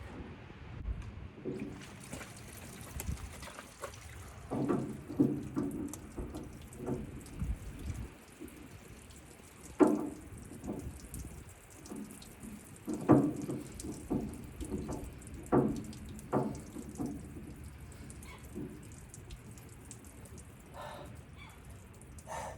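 Diesel fuel splashing and trickling out in irregular bursts during a messy component swap in a shop, close and fairly loud, with clanks and handling noises mixed in.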